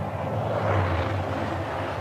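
Bell XV-15 experimental tiltrotor aircraft in flight, a steady close rotor and engine drone with a low throbbing hum that swells slightly mid-clip and holds at an even loudness throughout, with no talk.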